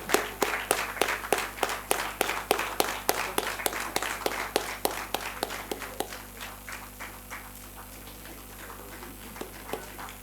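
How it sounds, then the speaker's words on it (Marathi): An audience at a Rotary Club board installation ceremony in Pune claps in a brisk, rhythmic beat, loud and steady at first, then thinning to scattered claps. "टाळ्या थांबू नका, फक्त डोनेशनच्या वेळेला नाही."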